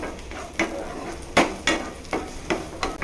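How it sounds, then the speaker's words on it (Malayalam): Onions sautéing in a pan for a village-style brinjal chutney: a soft continuous sizzle under repeated sharp scrapes and clinks of a spoon stirring against the pan, about six strokes over a few seconds, close and fairly loud. "ഉള്ളി നമുക്ക് ചെറുതായിട്ടൊന്ന് മൂപ്പിച്ചെടുക്കാം"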